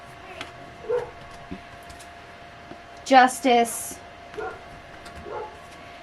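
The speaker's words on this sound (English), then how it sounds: "I'm sorry if you hear my dog" A pet dog lets out a few brief, muffled barks and yips in the background of a room while a person talks steadily over them.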